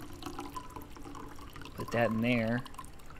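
Water pours briefly into an old-school coffee pot in the video game Routine, a short liquid splash after quiet background, with someone talking just before.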